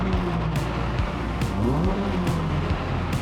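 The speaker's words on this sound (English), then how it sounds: "Get a wee rev." A rebuilt Renault Clio 172 engine revs in a couple of quick blips, its pitch rising and falling sharply over a steady idle, loud and close with no talking.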